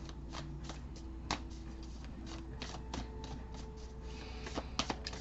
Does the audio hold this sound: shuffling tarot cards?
yes